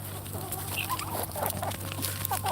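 A male turkey calls among free-range farm birds, with short clucking and gobbling sounds close by over a steady low hum, and no talking.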